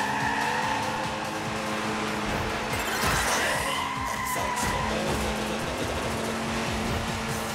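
Race car drifting in the Hotshot Racing video game, with a loud, sustained engine roar and rising tire squeal in the middle, continuing steadily throughout.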